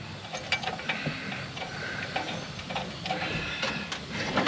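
A ratchet tightens the idler pulley bolt on a 1991 K-5 Blazer, giving quick, uneven clicking and metallic ticks at close range over a low background hum.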